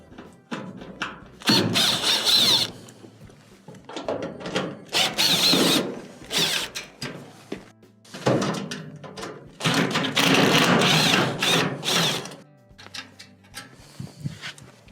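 A power drill backs out Phillips screws from the top panel of a clothes dryer, several close, loud whirring bursts separated by short pauses and handling clunks, without any talk.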